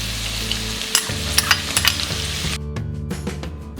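Red onions fry in a pan for chili idli, a dense close sizzle broken by sharp stirring clatters of spoon on pan, then a sudden drop to a quieter crackle with more scrapes.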